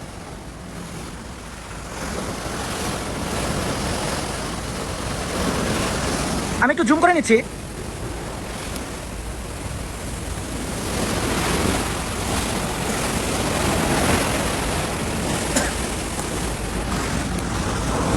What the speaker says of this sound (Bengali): এখানে সমুদ্রের পানির শব্দটা একটু দেখুন।